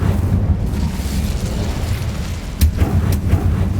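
A fiery Incendio spell blast in Hogwarts Legacy, heard as a dense roaring burst of flame with a couple of sharper pops near the end, loud and sustained.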